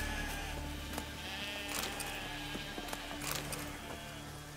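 Sheep bleating in The Witcher 3 on PS5, several short calls scattered over a steady game ambience with soft thuds, no speech.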